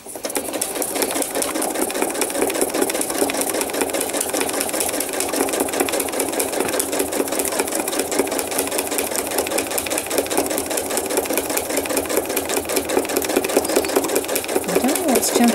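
A sewing machine stitching thread art runs steadily and loudly throughout, a continuous fast mechanical whir with rapid needle ticking and no pauses.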